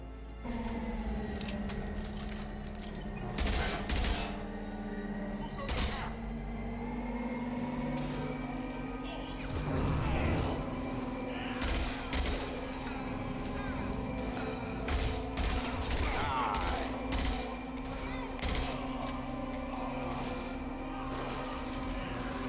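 Gunfire in the Mass Effect 2 video game, sharp repeated shots and bursts scattered over a steady low mechanical hum, with a voice talking intermittently.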